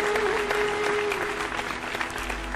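A large audience applauding at the Phulchhab Award ceremony, a continuous, even roar of clapping from many hands that fills the whole stretch, with a brief sustained tone near the start.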